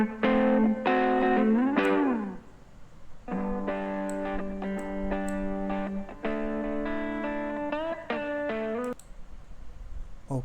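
A sustained synth or guitar melody with long held notes and heavy effects, played alone, with a washed, echoing reverberant tail.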